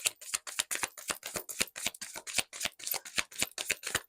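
Tarot cards riffled and snapped in quick, close bursts, a brisk rhythmic flutter of crisp card clicks repeating steadily with short gaps, no voices.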